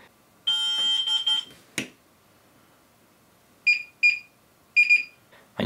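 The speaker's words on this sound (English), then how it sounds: "hold the power button down for 4 seconds until it beeps" A series of sharp electronic beeps from a DJI Mavic Air 2 drone controller pairing, one long tone then several short chirps in pairs, close and clear with silence between them.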